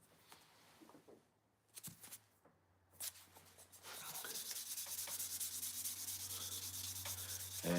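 A tobacco pipe is sanded by hand with fine-grit sandpaper: a few short, sparse rubbing strokes at first, then a close, continuous dry scratching rasp that holds steady to the end.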